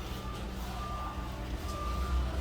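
A truck reversing with a steady low engine rumble, its reversing beeps sounding in the middle distance as intermittent tones over the continuous drone, with no talking.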